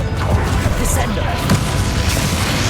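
Descendo spell impact in the Hogwarts Legacy video game during a fight with Ranrock, a loud booming crash with rumbling debris over continuous game noise.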